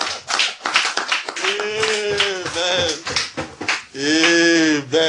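A church congregation applauds loudly, with bursts of clapping and raised voices cheering over it throughout.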